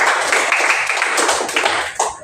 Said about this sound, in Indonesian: Tepuk tangan untuk Cio.